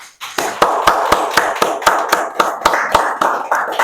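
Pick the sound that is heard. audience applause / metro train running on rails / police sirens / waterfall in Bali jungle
audience applause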